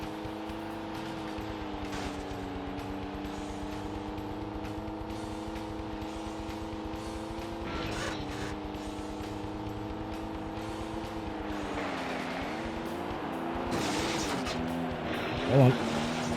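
A small Ford rally car engine drones steadily throughout a rallycross racing video game, its pitch rising and falling with gear changes, loud and continuous with brief bumps and other cars nearby.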